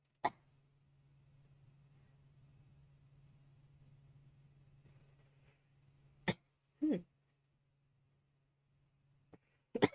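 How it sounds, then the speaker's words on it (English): A person coughs a few times near the microphone in a quiet indoor space with a low steady hum, the bursts sharp and brief, spaced apart toward the end. "I'm also coughing."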